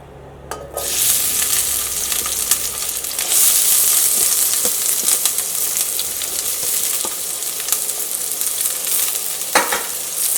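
Cut vegetables, including onion, drop into hot oil in a pan and erupt into a loud, steady sizzle that holds for about ten seconds, with stirring clinks and occasional sharp pops.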